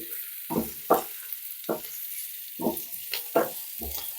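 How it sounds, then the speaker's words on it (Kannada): Three small sliced onions, garlic, curry leaves and green chillies are stirred in a hot pan, giving a series of separate scraping strokes with short gaps between them over a soft background sizzle. "ಇದನ್ನು ಸ್ವಲ್ಪ ಫ್ರೈ ಮಾಡಿಕೊಂಡು"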